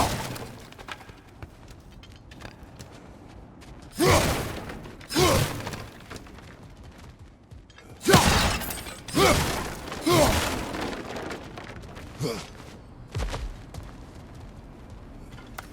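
Objects smashed in God of War Ragnarok: a series of sharp crashing and shattering bursts, some in quick pairs, rings out at uneven intervals over quiet game ambience, with no voices.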